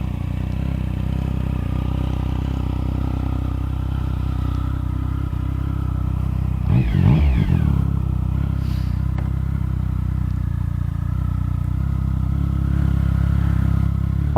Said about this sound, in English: let you listen to the sound of the three-pot engine